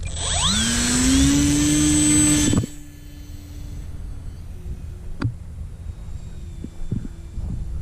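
A Skynetic Shrike RC plane flies over a cow pasture. Its electric motor whines loudly and climbs in pitch for a couple of seconds, then cuts off and leaves a faint hum and a few small clicks.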